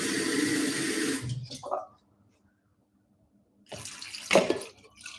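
Cold water pours from a tap into a measuring cup in a home kitchen, a short steady splashing stream that stops, followed by quieter handling sounds and another brief burst of pouring.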